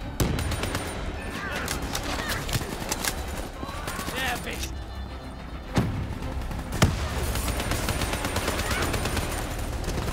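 Gunfire in Call of Duty: Black Ops 3, a dense continuous fusillade of automatic fire with a few louder sharp shots standing out, a voice speaking underneath the shooting.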